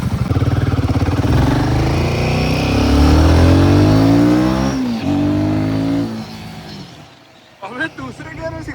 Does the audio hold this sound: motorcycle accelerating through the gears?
yes